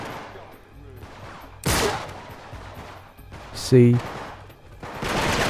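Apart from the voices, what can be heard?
gunfire in the video game Uncharted 3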